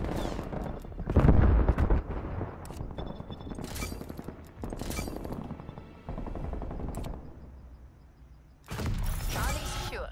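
Sharp bursts of sentry turret fire in Call of Duty: Black Ops Cold War, loud and near, broken by pauses and mixed with mechanical clatter and radio-style game voices.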